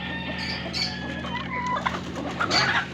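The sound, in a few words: Rhode Island rooster crowing and chickens clucking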